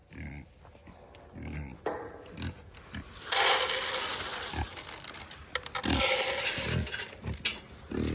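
Several farm pigs grunt and snort close by, with a burst of louder squealing and grunting in the middle, mixed with a few short spoken words.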